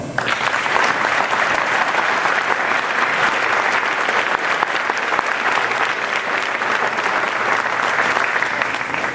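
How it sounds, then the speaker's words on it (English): Loud, continuous round of applause from a crowd at a high school spring sports awards night honoring athletes from tennis, golf, archery, track and baseball; dense and even throughout. "baseball, and round of applause."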